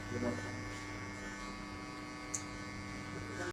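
An electric hair clipper hums steadily and close by through a burst fade haircut, a continuous mains-like buzz with no break, with a faint voice briefly underneath.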